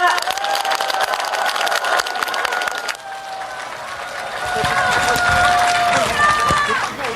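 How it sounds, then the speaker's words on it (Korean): A large outdoor crowd at a Democratic Party presidential campaign rally in Naju claps and cheers for the speakers, a dense sustained wash of applause that swells louder in the second half, with a voice over a loudspeaker near the start. "오늘 좋은 연설해주신 네 분 의원님께 다시 한 박수 부탁드립니다."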